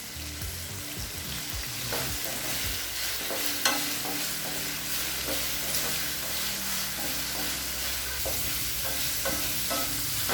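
Chopped tomatoes sauté in a pan for an okra tamarind curry (vendakkai puli kuzhambu), giving a steady, close sizzle broken by soft scraping stir strokes, with no talking.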